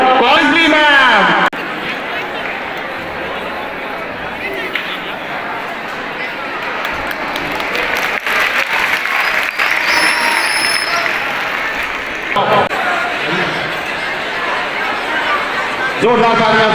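Loud applause from a crowd at a school annual function and prize-giving ceremony for a female teacher, sustained for most of the stretch, with a voice over a loudspeaker at the start and the end.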